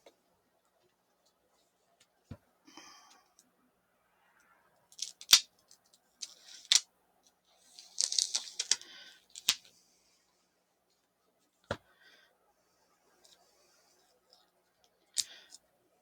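A tarot deck being unwrapped, its plastic film giving sparse sharp crinkles and clicks with a couple of short rustling bursts in between, close and quiet, a voice speaking briefly.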